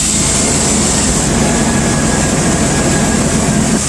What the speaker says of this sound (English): take a listen to the engine while the mass airflow sensor is unplugged